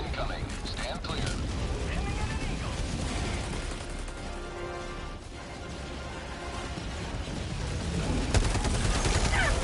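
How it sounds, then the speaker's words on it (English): Orbital barrage strike raining down in Helldivers 2, a sustained rumble of blasts and booms over about ten seconds that grows louder near the end, with game voice lines over it. "Requesting orbital. Orbital barrage incoming."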